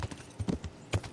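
Horse hooves trot with a steady, muffled clip-clop rhythm in the Kingdom Come Deliverance video game, quiet and close, about five to six beats in just over a second.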